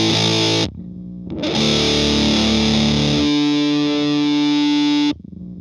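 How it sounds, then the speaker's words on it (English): A glam rock riff on a Stratocaster lead single-coil pickup through a Big Muff fuzz into a Vox AC30, heavily distorted sustained chords with a short gap between phrases, loud and alone. "Listen to this glam rock guitar riff."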